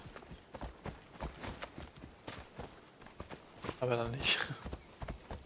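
Hooves of a horse being ridden in Assassin's Creed Odyssey make a steady clip-clop rhythm beneath someone talking in German throughout, with a brief louder rustle near the end.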